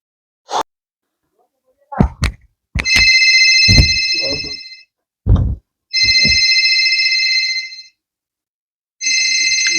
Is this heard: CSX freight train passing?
no